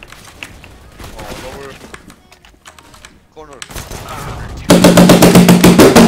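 Voices chatter in Swedish over scattered video game sounds, then a loud, rapid burst of automatic gunfire rattles steadily to the end.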